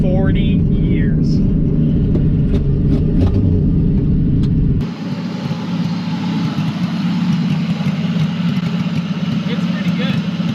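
An old Pontiac Ventura engine with no exhaust system runs loud and raw, a deep rumbling idle with revving, then the sound shifts abruptly to a thinner, rougher roar partway through; voices are faintly present.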